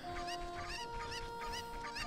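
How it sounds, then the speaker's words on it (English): Chickens in the Ocarina of Time video game cluck in repeated short bursts over a steady game music tone, fairly faint, with no speech. "I'm going to put all the chickens back in the coop"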